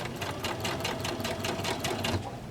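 A sewing machine stitches a straight seam in a fast, even mechanical whir with rapid rhythmic needle pulses, close and continuous with no pauses.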